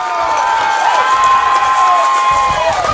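A homecoming crowd at a high school football game, Rushville Industry Rockets at Lewistown Indians, cheers and shouts loudly and steadily, with whoops rising from a broad, sustained roar.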